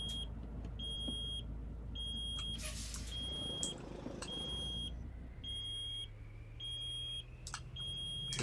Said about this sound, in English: I don't know what the beeping is. Probably low air pressure.